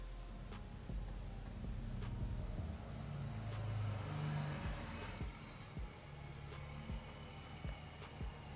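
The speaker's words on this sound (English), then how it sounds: "This truck always comes by my house and is so irritating" A truck rumbles past a house outside, its low engine drone swelling to a peak midway and then fading, heard from a distance with faint ticks and knocks scattered through the quiet.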